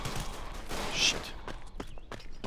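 Gunfire in the video game Verdun, a burst of sharp shots mixed with scattered clicks and footsteps, moderately loud and fading to softer, sparse sounds toward the end.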